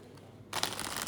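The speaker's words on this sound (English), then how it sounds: "So this is the riffle shuffle" A deck of tarot cards is riffle shuffled close up, giving a sudden burst of rapid crisp flutter and fast clicking after a short quiet pause.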